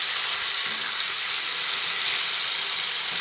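Half a tomato frying with ginger and spices in a pan, giving a steady, close, bright hiss of sizzling oil without pause and with no talking.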